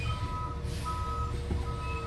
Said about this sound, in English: Right when I went to go feed Trident, the fucking trash truck showed up to come back down the alley. Loud as fuck, making all kinds of air brake noises